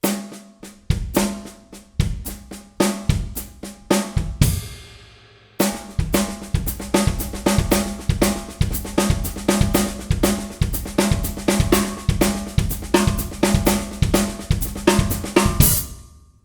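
A drum kit plays a 16th note fill with right, left, kick sticking, crisp repeated hits in a steady driving rhythm, loud and close, briefly pausing before resuming the pattern with no talking.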